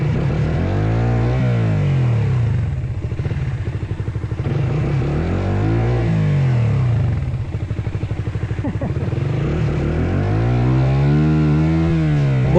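A motorcycle stuck with its wheel sunk in mud on a rocky uphill road revs repeatedly, the engine note rising and falling in loud close surges as it strains without climbing.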